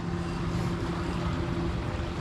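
Engines of village jukung outrigger boats returning on a windless day, a steady low motor drone with a constant hum running throughout, heard from a short distance across the water.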